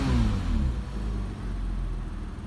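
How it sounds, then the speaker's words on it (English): A Porsche Boxster 987 Tiptronic engine revs close by, its pitch falling as the rev drops, then settling into a steady, moderately loud idle. "Engine sounds amazing."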